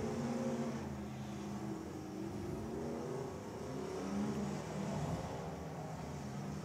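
A demolition derby car engine at a Perryton, Texas derby drones and revs steadily from a distance, a continuous muffled roar under arena noise with no clear pauses.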